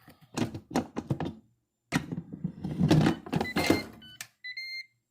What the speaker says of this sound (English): you know that it clicks when you heard the clicking